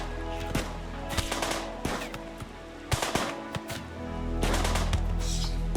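Gunfire in the RimWorld video game crackles as repeated sharp shots and rapid bursts over a continuous low droning game soundtrack, with no speech.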